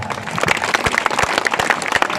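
Applause from a large audience at an outdoor Hindi poetry gathering during a fair in Deeg, Bharatpur, a steady dense burst of clapping, loud and continuous without talk.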